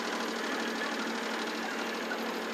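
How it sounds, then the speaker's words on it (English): A hydrostatic L3902 tractor engine runs with a steady, even mechanical drone and rapid rattling pulse, constant in level throughout and close by, with no talk. "You're going to start the tractor."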